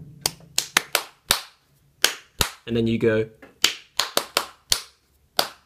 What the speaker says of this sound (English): They clapped their hands in a particular rhythm pattern